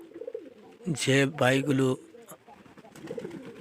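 Native pigeons on a pigeon farm coo in a low, throaty burst near the start, then a softer murmur of cooing, with someone speaking over the middle of it.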